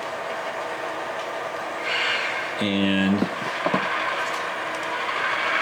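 A freight train switching railcars in Orange, California: a brief horn blast, then a few metallic clanks of couplers, over steady rumble, with a person talking in the background.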